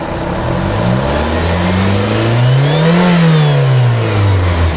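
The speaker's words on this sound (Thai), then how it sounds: "ผมจะเล่นเครื่องนะฮะ" A 1996 Toyota Corona with automatic transmission, its engine idling and then revved, climbing smoothly to a peak and easing back down to idle, loud and close with no voices.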